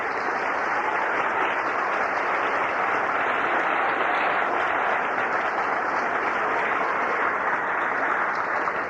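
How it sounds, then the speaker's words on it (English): A large crowd at Treasure Island's 75th anniversary celebration gives Jim Bloomer a rousing ovation, dense continuous clapping that stays loud and even from start to finish. "a nice big rousing round of applause"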